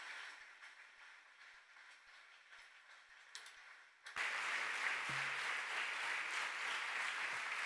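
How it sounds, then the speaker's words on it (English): A live audience bursts into sustained applause at a church gathering honoring a Swedish cardinal, dense clapping filling the room from about four seconds on after a quieter stretch. "Let's thank Cardinal Arborelius with a round of applause."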